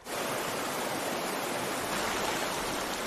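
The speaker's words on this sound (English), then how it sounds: "The river's picking up speed here." Fast river rapids rush past a canoe, a steady, loud broadband roar of churning water filling the whole stretch without pause.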